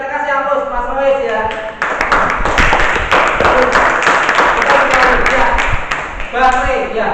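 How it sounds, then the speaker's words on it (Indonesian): A group applauds for Mas Rois, a burst of many hands clapping that fills the middle of the clip, framed by someone talking before and after, his voice briefly overlapping the applause. "Kita kasih aplaus Mas Rois ya"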